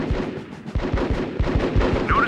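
Rapid video-game gunfire during a squad firefight: a steady run of close, punchy shots, roughly evenly spaced, with a small electronic chirp near the end and no talking.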